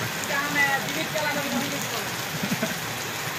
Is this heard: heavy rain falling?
yes